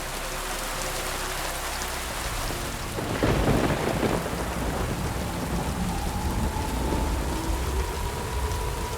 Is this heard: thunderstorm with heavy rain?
yes